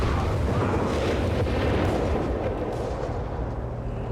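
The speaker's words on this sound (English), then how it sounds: "We got mortar bombs, incendiary mortar rounds there from the mortar half attacks" Incendiary mortar rounds exploding in Company of Heroes 3 form a dense, continuous roar of heavy blasts and rumbling fire, loud and sustained, with no voices.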